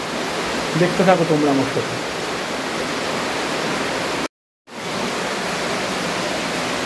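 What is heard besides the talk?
water flowing through a cave in Cherrapunji, Meghalaya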